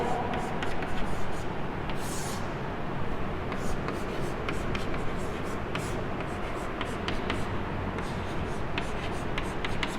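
Chalk or marker scratches and taps across a board during a math lecture on the ratio test for infinite series, a busy run of short strokes under a low murmur of background voice.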